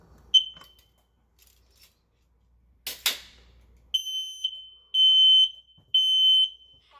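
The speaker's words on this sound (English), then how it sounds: "this is the smoke detector for the stairway. This one is also more than 4 inches from the wall. We'll test this one." A stairway smoke detector under test gives a few handling clicks and a sharp knock, then shrill, piercing electronic alarm beeps start, first short chirps, then longer blasts with brief gaps, loud and close.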